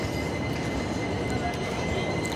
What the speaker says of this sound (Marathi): सव्वा चार दुपारची ट्रेन आता निघालेली आहे